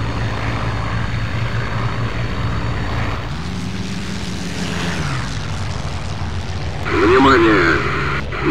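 Propeller fighter aircraft engines from the IL-2 Sturmovik World War II flight game drone steadily, with a pitch sweep in the middle and a louder burst near the end, while voices talk over them.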